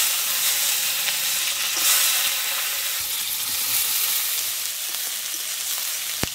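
River crabs from the Sundarbans and cumin seeds fry in hot oil. A steady, even hiss of sizzling holds for the whole stretch, with one sharp tap near the end.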